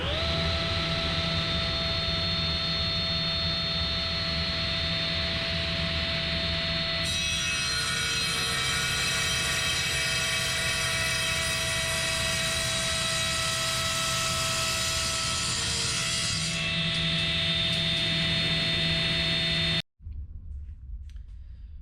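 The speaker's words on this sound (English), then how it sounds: "I'm going to start by cutting this into smaller, more manageable pieces, and I'm going to be using my sliding table saw to do that" A sliding table saw cutting wood boards: the loud, steady whine of the running blade deepens into a harsher cutting roar for about ten seconds, eases back, then stops abruptly near the end.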